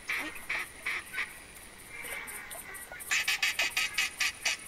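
A flock of ducks calling in theHunter Classic, with repeated honking quacks in uneven bursts, first a few scattered calls, then a denser run of loud, close quacks.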